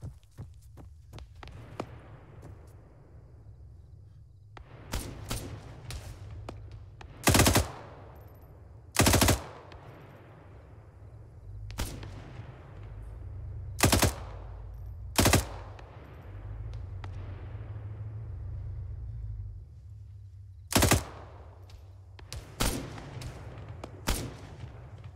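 Arma 3 gunfire: about seven or eight sharp, loud single shots ring out at irregular intervals over a steady low rumble, some close together and others spaced several seconds apart.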